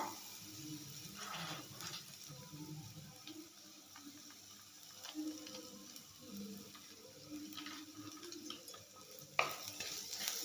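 Spices sizzle softly in a frying pan for buttermilk rasam while a utensil stirs and scrapes, with a small clink near the end.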